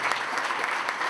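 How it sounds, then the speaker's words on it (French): Brief burst of steady applause from the audience at a departmental council ceremony honouring a centenarian with medals, dense and continuous clapping with no voice over it. "Sous l'applaudissement, mesdames et messieurs,"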